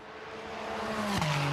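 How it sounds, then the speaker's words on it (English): Race car on a circuit's back straight, its engine note building steadily and then dropping sharply in pitch as it sweeps past at about the midpoint, a continuous loud drone throughout. "The car sounds and looks absolutely wonderful."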